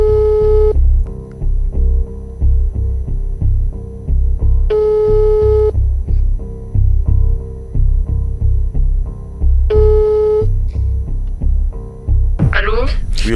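A telephone ringback tone sounds while a call is placed: steady repeating tone bursts with regular pauses, three cycles in all, near and clear, with a brief voice at the very end.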